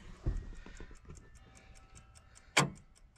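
A freshly wound car clock in the owner's first car, kept for 45 years, ticks in a steady, faint rhythm, with a sharper louder knock near the end.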